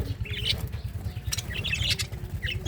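Light bird chirps and tweets come in scattered bursts over a steady low hum, fairly close and moderate in volume.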